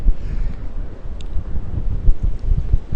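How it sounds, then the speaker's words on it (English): Heavy wind buffets the microphone despite a wind cover, producing loud, uneven low rumbling and thumps throughout with no other clear sounds, on Eastbourne Pier. "Quite windy here."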